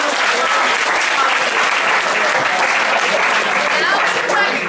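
Loud, continuous applause from a crowd at a debate event, dense clapping filling the whole stretch at steady intensity, with a brief spoken word near the start.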